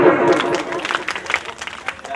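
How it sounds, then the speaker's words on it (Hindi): Clapping from a crowd at a village wedding song performance, a brief burst of scattered hand claps under background chatter and voices that fades down toward the end. "ताली बजाना सुन।"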